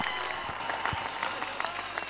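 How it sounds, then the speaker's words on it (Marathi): Spectators at a Thane versus Raigad cricket match clap in sustained applause for three sixes, a steady patter of many hands at a moderate distance. "केतनचे हे 3 षटकार आवडले असतील तर जोरदार टाळ्या झाल्याच पाहिजेत."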